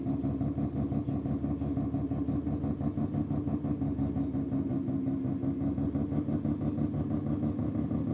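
Drag racing cars on a quarter-mile strip give a loud, steady throbbing engine drone that holds at an even level throughout, close by and with no talking.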